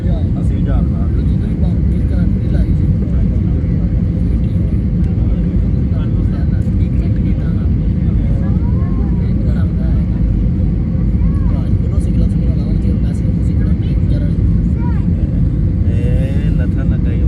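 An airliner lands at Allama Iqbal International Airport in Lahore, heard from inside the cabin as a loud, steady low engine roar that continues without a break throughout.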